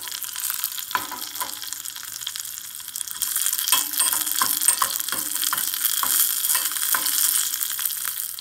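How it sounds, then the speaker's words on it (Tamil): Dried red chillies and curry leaves sizzle in hot oil for a Thanjavur chicken gravy, a soft continuous frying hiss broken by light scraping taps of stirring that grow a little busier midway, with no talking. "இப்போ காஞ்ச மிளகாய் நல்லா பொரிஞ்சு வந்துருச்சு"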